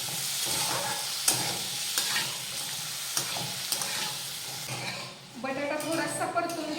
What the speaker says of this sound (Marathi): आता तुपावर हा बटाटा थोडासा परतून घेऊयात।